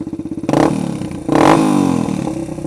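A Suzuki DR200 motorcycle idles close by with a quick, thumping single-cylinder putter. It revs up twice in short bursts, then settles back toward idle.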